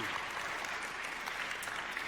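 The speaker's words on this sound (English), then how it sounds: "Give them a round of applause," An audience at a PAX Australia panel applauds in a steady, even wash of clapping that holds at a moderate, somewhat distant level throughout, with no speech over it.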